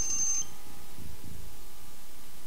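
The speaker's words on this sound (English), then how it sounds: "Oh, alarm's going off." Alarm going off in the XCOM strategy game, a brief high electronic beep at the start followed by low pulsing tones over a steady background hum, no talking.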